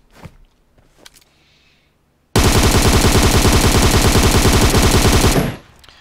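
An M762 Beryl rifle with a compensator fires in a video game, one loud, close, continuous automatic burst of about three seconds, with faint footsteps before it.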